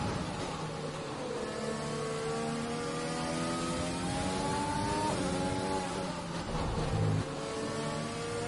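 A racing car in a motorsport video game at the Austria circuit holds a steady engine drone while accelerating on an overtake boost, with rising and falling whine as gears shift, loud and continuous with no talk.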